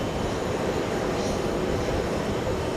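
An Alaska Airlines jet lines up on runway 22 left at JFK airport on a hot day, its engines giving a steady, dense rumble and roar that stays constant without a break.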